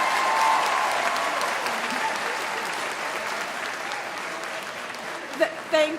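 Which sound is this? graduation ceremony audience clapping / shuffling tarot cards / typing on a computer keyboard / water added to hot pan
graduation ceremony audience clapping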